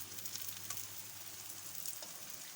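A paratha frying in ghee in a frying pan gives a steady, even sizzle and hiss throughout, fairly soft and close, with faint crackles and no talking.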